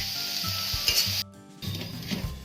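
Potatoes and green peas fry in a pan for batata matar pohe, crackling sizzle with stirring scrapes, cut by a brief near-silent gap before the frying resumes, close and alone.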